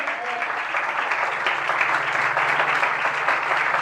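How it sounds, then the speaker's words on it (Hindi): Dense, steady clapping from a church congregation filling the space, loud and continuous with no talk over it. "ये तालियां"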